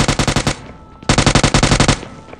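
Automatic gunfire in the shooter game PUBG, played on an iPad 9th Gen: two loud, rapid bursts of evenly spaced shots, each about half a second to a second long, separated by a short pause.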